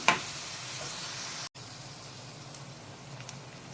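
Bitter gourd pieces fry in a pan with a steady, even sizzle that runs throughout, broken by a brief silent gap midway before resuming.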